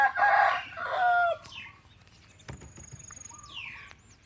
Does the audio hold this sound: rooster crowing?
yes